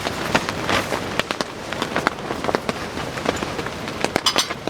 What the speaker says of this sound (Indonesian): angin besar sekali.